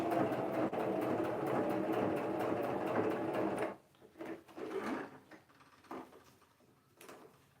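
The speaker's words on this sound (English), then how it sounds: "I'm going to flip it and try to sew it from this side" A sewing machine stitches fabric in a steady whirring run for a few seconds, then stops, followed by scattered handling clicks and shuffles at close range.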